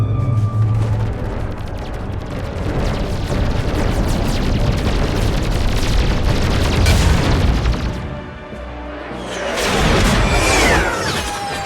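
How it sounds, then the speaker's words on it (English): Massed weapons fire against Reapers in the Mass Effect 3 space battle, a dense, continuous roar of booming shots and explosions, loud and sustained throughout. "That is a ton of shots."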